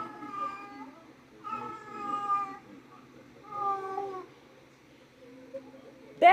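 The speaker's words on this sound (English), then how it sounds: "My cat's in heat, if you can't tell." A cat in heat gives three long, drawn-out yowling meows with short pauses between them, fairly close and moderately loud, ending in a sharp rising cry; no talking is heard.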